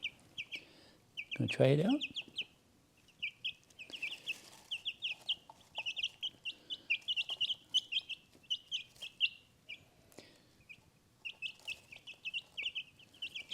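Frizzle chickens pecking grain from a hand, soft repeated clucks and chirpy calls coming in quick close bursts, with someone speaking briefly near the start.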